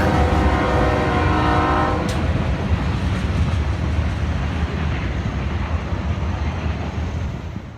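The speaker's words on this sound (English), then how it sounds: "this train was super short, so that's the reason why I got a full video of the entire train this time" A short freight train rolls past in Central Ohio, a loud steady rumble with a brief horn-like tone early on, then a broad roar that gradually fades as the last cars go by.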